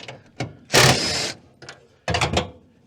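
Power impact gun driving fasteners off a Volkswagen Type 3 Fastback in a garage, heard as a few short bursts and one longer whirring burst close by, with no talking.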